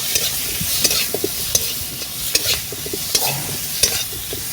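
Chopped coriander leaves and tomato fry with kebab masala in a pan over a wood-fired clay oven, a steady close sizzle broken by frequent scraping stirs and light clinks, with no talking.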